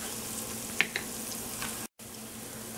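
Vegan cabbage soup simmering in a pot gives a low, steady bubbling sizzle with a few faint clicks and a brief dropout near the end, and no one speaks.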